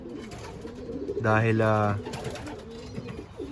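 Breeding pigeons in a loft give a steady low cooing throughout, with one louder, closer coo in the middle and a short spoken word over the birds.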